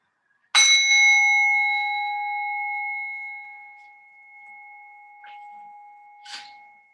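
A single bell is struck to mark rest in a yoga session, ringing out with a clear sustained metallic tone that slowly decays, followed by a few faint small clinks near the end.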